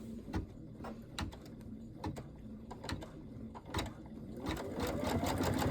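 Embroidery machine stitching a line on an in-the-hoop cat quilt block, a rapid mechanical needle chatter with regular clacks, the running motor rising in pitch toward the end.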